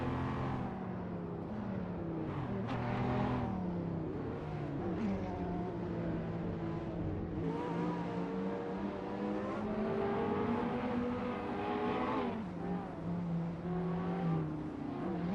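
Hypercar engines in an AI racing simulator game drone and whine continuously, pitch rising and falling through gear changes as cars pass, with a steady layered roar held at moderate level throughout.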